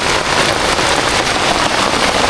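Heavy rain pouring steadily onto garden plants and young sprouts, a dense close hiss of drops with no pauses and no voices.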